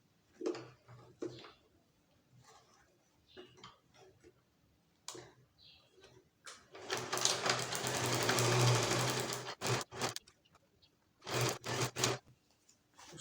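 A sewing machine stitching the back seam of a child's dress with straps runs in short stop-start bursts, then in one longer steady run, close and clear, with no talking.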